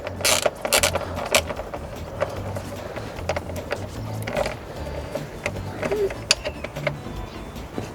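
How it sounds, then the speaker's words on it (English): An airflow meter connector is unplugged from a Mazda Miata engine, giving scattered sharp plastic clicks and light metallic rattles close by over a low, steady background, with no talking. "I'm gonna unplug the airflow meter."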